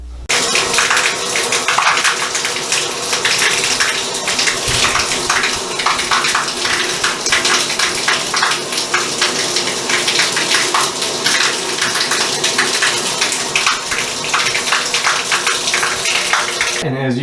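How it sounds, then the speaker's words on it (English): Water runs steadily through a newly installed rain-style shower head and its pipe, a continuous loud broadband rush of spray and splashing that holds for the whole stretch with no talk over it. "So I'm going to go ahead and turn the water on, let it run"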